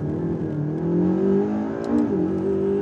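A McLaren 12C engine at full throttle in a simulator gives a loud, sustained roar whose pitch climbs and dips slightly as it holds the rev.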